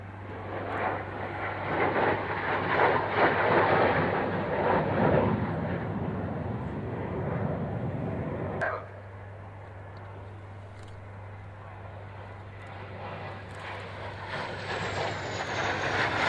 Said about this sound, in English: This will be the aircraft's last pass.